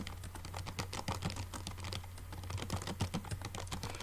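Steady, rapid keystrokes on a computer keyboard, typed as code is entered for a simple shell written in C, close and continuous with no voices, over a low electrical hum.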